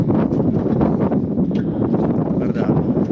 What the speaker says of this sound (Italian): c'è 40-50 cm di neve, freddo, tira un vento ragazzi